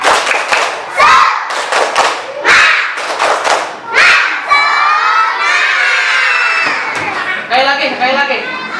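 Classroom children joining a 'tepuk semangat' spirit chant, shouting rhythmic lines in unison with bursts of clapping, loud and close, ending in a sustained group cry.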